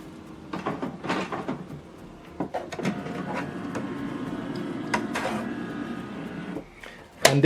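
An HP Deskjet 4100 series inkjet printer works with intermittent mechanical clicks, whirs and knocks over several seconds, fairly quiet and close, ending in a louder clunk.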